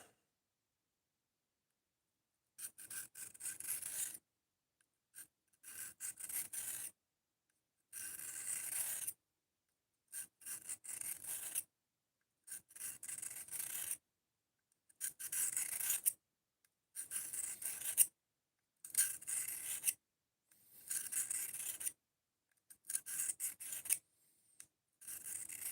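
Knife blade drawn repeatedly across a sharpening stone, raising a burr: about ten even rasping strokes in a steady rhythm, each separated by a short silence, close and fairly quiet.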